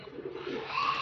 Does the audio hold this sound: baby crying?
no